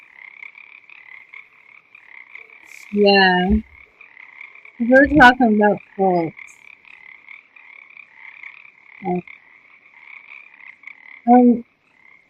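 Frog croaks come in loud, separate bursts, a few of them spaced out across the clip, with a steady high chirping running underneath. A person speaks briefly over the croaks.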